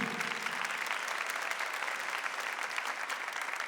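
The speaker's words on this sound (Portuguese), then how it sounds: "Se você acredita nisso, pode aplaudir." A church congregation applauds at a Brazilian Catholic gathering with a priest, a dense, steady wash of many hands clapping throughout, fairly loud and without speech.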